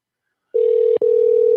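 A steady telephone dial tone starts abruptly after a moment of silence and holds loud and even, cut by one very brief dropout partway through, with no talking.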